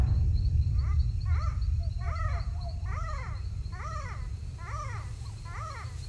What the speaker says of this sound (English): This is the sound of the greater galago, a small primate known as the bush baby.